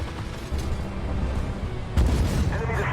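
Tank cannon fire in the Armored Warfare video game during a War Games mode match, with a booming shot partway through and a louder, heavier blast near the end over a rumbling battle background.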